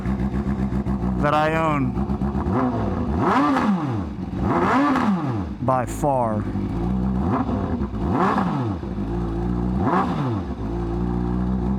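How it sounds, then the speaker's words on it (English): A Honda CBR1000RR-R motorcycle engine revs repeatedly in loud, rising and falling bursts over a steady idle, with someone talking between the revs. "It is the loudest motorcycle"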